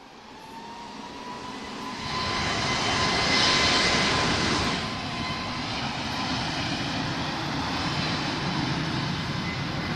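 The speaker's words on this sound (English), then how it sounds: "So this aircraft is off to Natal. I think I said that already. Okay, A321 long range Neo." Airbus A321neo long-range jet at Lisbon Airport, a loud, broad engine roar and rumble that swells to a peak, then settles into a steady continuous drone at a distance.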